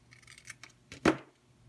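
Scissors cutting ribbon to shape a bow: a few light snips followed by one sharper, louder closing cut, close by and alone without talk.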